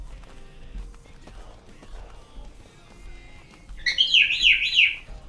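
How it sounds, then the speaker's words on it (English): Bird chirping in the video game Unturned, a loud, fast burst of warbling tweets near the end after quieter game sounds and faint background noise. "Shut your bird up"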